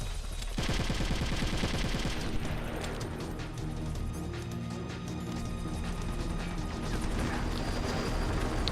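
Sustained assault-rifle fire aimed at the Harrier jet in Metal Gear Solid: Twin Snakes rattles on loudly and steadily, layered with mechanical clanks and crashing impacts, with no voices over it.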